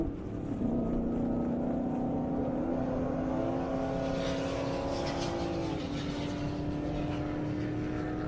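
An LS-swapped 800 hp drag car races through the finish with a loud, steady engine roar. The pitch falls as it passes, with a rough, broad rumble underneath.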